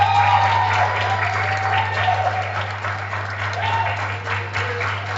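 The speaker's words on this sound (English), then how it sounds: "A round of applause for him, ladies." Audience applause greeting a book presenter as he comes on stage at a panel event, steady dense clapping filling the whole stretch at a moderate, even level.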